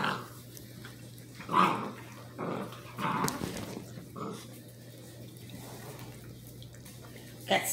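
Eight-week-old basset hound puppies play together with soft growls and scuffling yips, faint and close, over a low steady hum with a few quiet bursts.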